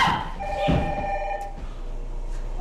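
A telephone bell rings in a tense indoor scene, its clear, sustained trilling ring fairly quiet, with faint movement noises and no talk.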